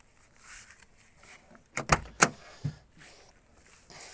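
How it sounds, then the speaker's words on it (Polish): A 1990 Ford Escort XR3i Cabrio door unlatches and swings open wide with a few sharp clunks and clicks in quick succession, close by, amid quiet surroundings. "te drzwi otwierają się bardzo szeroko"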